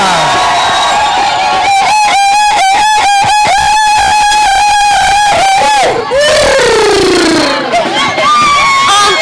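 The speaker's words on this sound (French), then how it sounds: "Avec des cris de joie." Children at a Christian holiday camp chant and shout together in loud, rhythmic joyful cries, a bright crowd of young voices swelling and ending in cheers.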